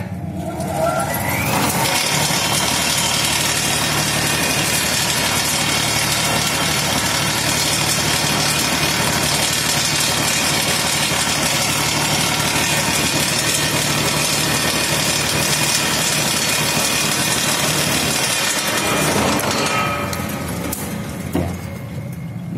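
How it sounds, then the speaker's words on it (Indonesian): An electric dynamo motor runs fitted with a thermistor soft starter, a loud, close, steady hum and whirr that starts up, holds for about twenty seconds, then winds down. "Jadi kita nyalakan ini dinamonya."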